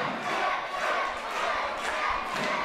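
A wrestling crowd at a live HOPE Wrestling show roars and cheers wildly, a dense, continuous wash of shouting voices with occasional thuds beneath.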